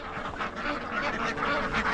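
Dense flock of ducks quacking continuously, a noisy overlapping chorus close by with no pauses.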